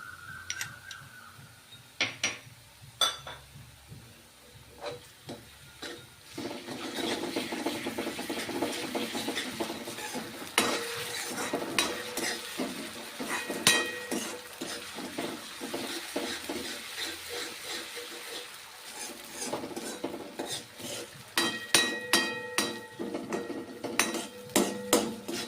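Cabbage and carrot cook in oil in a pan with garlic chutney and green chillies, a steady close sizzle under repeated scraping and stirring, with utensil clinks and taps against the pan, and no talking.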